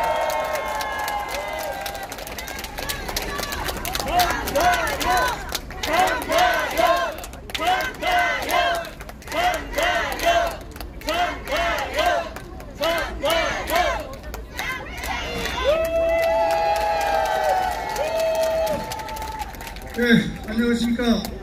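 A large crowd at a street rally in Gangnam cheers, shouts and claps in rising and falling waves. The sound is loud and dense, with rhythmic chanting and a brief tonal horn or whistle near the end.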